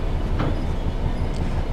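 A Rail Head Treatment train runs along the Birmingham Cross City line, with a steady, loud rumble of the moving train heard from the cab and no talking.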